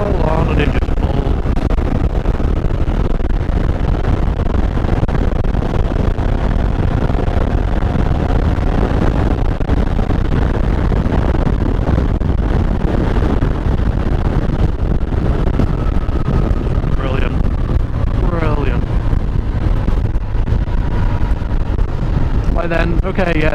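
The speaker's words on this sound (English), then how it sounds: "Put it in the 5th gear, top gear and make an overtake. Just roll on and it just pulls." A 1993 Yamaha TDM850 motorcycle pulls hard in fifth gear during an overtake, its engine droning steadily under heavy wind rush for the whole stretch, while the rider talks over it.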